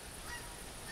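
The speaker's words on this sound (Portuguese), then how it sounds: "olha os gansos" Geese honking in The Hunter hunting game, a steady flock chorus of calls over a constant broadband outdoor ambience, fairly faint and continuous with no talk.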